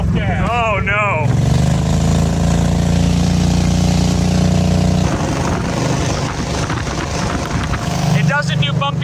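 A King Midget microcar with a swapped engine of twice the power revs hard, then drops off throttle and revs again, a loud buzzing drone close by, with people talking over it.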